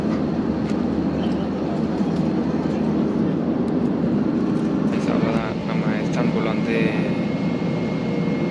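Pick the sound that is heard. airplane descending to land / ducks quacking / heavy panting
airplane descending to land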